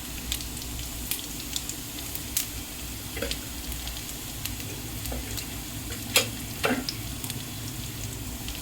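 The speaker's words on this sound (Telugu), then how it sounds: "కొంచెం తాలింపు గింజలు వేసుకోవాలి." Tempering seeds frying in hot oil crackle and sizzle in a pan, a continuous hiss with scattered sharp pops and clicks, close by and with no talking.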